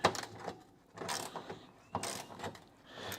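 A ratcheting wrench with a ratcheting head turns during work on a Dodge Coronet crew cab fender, giving a few short bursts of close clicking in three or four strokes, with no talk.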